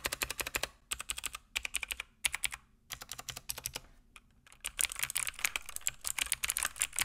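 Rapid clacky typing on a mechanical keyboard, bursts of keystrokes with brief pauses between, close and crisp, no talking.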